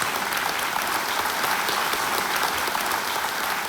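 A large studio audience on the game show Kaun Banega Crorepati claps steadily and loudly, a dense wash of applause with no pauses from start to finish.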